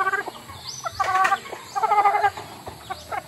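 An old gold hen, over two years of age, with white feet, gives several bursts of clucking close by, with short pauses between the bursts.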